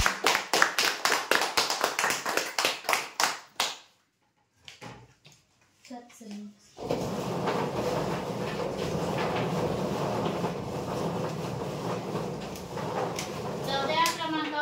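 Scattered hand claps ring out at a weekly prize draw for winning customers, then stop briefly before a broad, steady wash of applause-like crowd noise rises and holds to the end.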